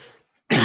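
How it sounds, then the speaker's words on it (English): A single sharp cough bursts out loud and close after a brief hush, preceded by faint background noise. "It was a cough"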